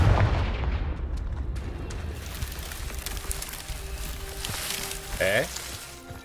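In Hogwarts Legacy, a Confringo blasting spell erupts with a deep boom at the start, followed by a lingering rumble, scattered crackles and a whooshing magical flare near the end.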